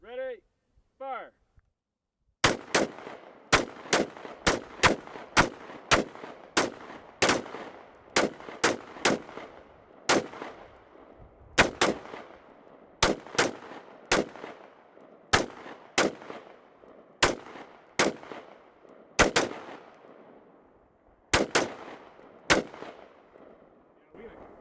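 Rapid, sharp gunshots from a very short-barrel AR-15 rifle fired outdoors at water bottles, dozens of loud cracks in quick uneven strings with short pauses between volleys, preceded by a brief spoken command.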